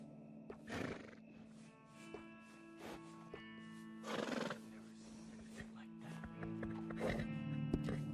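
Several horse neighs and whinnies ring out over a steady musical background in Red Dead Redemption 2, with a few soft hoof-like thumps between them.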